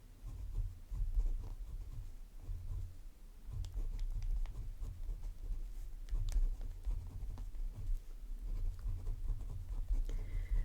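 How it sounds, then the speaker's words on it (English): Fountain pen nib scratching across paper while ink swatches are written out, a steady close soft scratchy patter with brief strokes and pauses throughout. "here again, you can write what the inks are"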